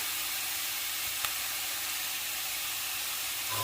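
Shrimp stir-fry in a pan as oyster sauce goes in, giving a continuous loud hissing sizzle with one brief click, close up and without talk.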